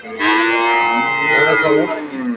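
A Holstein Friesian dairy cow at a cattle market lets out one long, loud, close moo.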